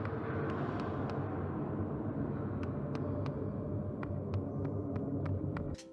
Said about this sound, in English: a low hum in the background that lets you know that you are in a huge place